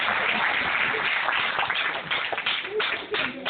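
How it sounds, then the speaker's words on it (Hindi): A seated audience at a Brahma Kumaris talk on lifescaping claps together in a dense, steady burst of applause that stays loud and close throughout, with a faint voice mixed in. "ताली बजाओ इसके लिए।"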